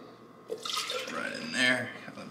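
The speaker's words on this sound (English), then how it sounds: "I'll do 1 cup of whole milk." Whole milk is poured into a cup as a brief liquid splash and gurgle that swells twice in close succession, close up and clear.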